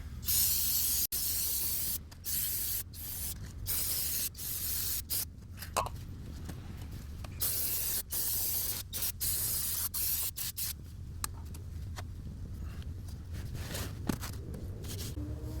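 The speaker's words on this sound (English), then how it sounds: "Second brake clean bath." Brake cleaner sprayed from an aerosol can onto greasy brake and suspension parts, a loud steady hiss running almost continuously with brief breaks between bursts, close up and with no talking.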